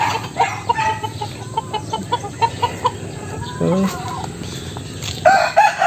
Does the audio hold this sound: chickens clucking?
yes